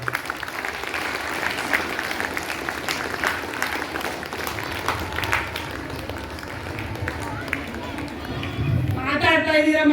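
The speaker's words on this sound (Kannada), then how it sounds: "ಚಪ್ಪಾಳೆ ಮೂಲಕ ಪ್ರೋತ್ಸಾಹ" Schoolchildren clapping for a yoga performance at a Karnataka public school, sustained scattered applause with general crowd noise throughout, moderately loud, swelling briefly near the end.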